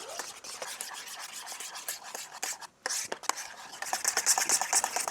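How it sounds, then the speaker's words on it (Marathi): Flour and baking powder batter whisked by hand in a bowl, rapid rhythmic scraping strokes close up with a brief pause midway, then faster beating, with no talk. "याला ॲक्च्युली मशीन लागते, पण मशीन नाही, आपण असंच फेटूया. मस्त फेटून घ्या."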